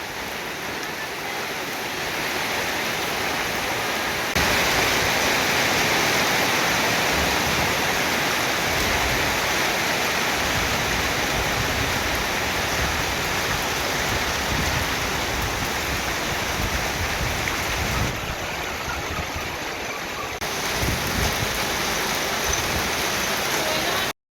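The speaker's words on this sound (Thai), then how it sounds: "ฝนหยุดแล้วนะครับผมตอนนี้ ตกแป๊บเดียวเอง ตกไม่แรงด้วย" Light, brief rain falls outdoors on a farm, a steady hiss of drops that swells after a few seconds and holds evenly, easing slightly near the end.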